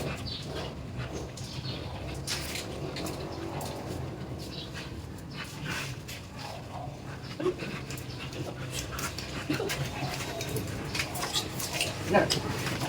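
A Bull Mastiff dog panting and whimpering close by, rhythmic breathy pants with occasional soft whines, while people talk over it.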